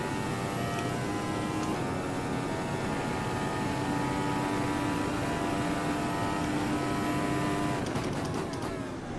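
A car engine roars steadily at high revs, with faint tire noise underneath, loud and continuous throughout, an in-game race car driving hard around the Montreal circuit.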